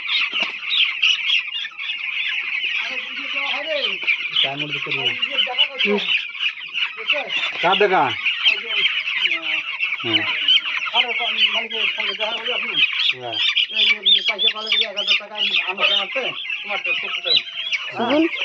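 A flock of farm chickens is being vaccinated. They cluck and squawk constantly, close by and loud, with many overlapping calls and frequent sharp rising cries, while people talk now and then underneath.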